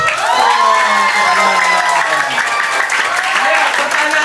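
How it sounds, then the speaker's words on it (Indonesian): Children at an English and character day camp clap and cheer together, a steady, loud wash of applause and excited young voices filling the whole stretch without a break. "Tepuk tangan dong."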